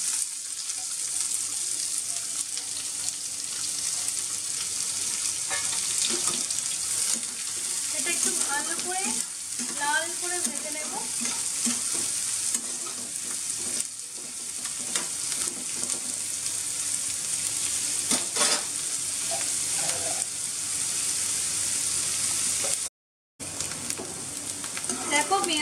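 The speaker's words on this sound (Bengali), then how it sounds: "কড়াইয়ে তেল গরম হয়ে গেছে পেঁয়াজ কুচিটা দিয়ে দিচ্ছি" Chopped onion fries in hot oil in a wok, a loud, close, continuous sizzle with occasional stirring scrapes and faint clinks, cutting out briefly near the end.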